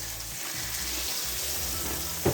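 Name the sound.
searing Swiss steak pieces in a pan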